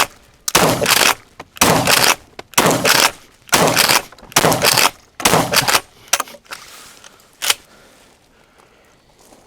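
A Benelli Nova pump-action shotgun fires six loud, evenly spaced blasts at close range, followed by a couple of fainter, irregular sharp sounds.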